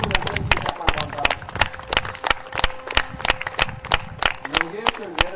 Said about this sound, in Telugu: ధ్యాన యోగులందరికీ చప్పట్లు కొడదాం.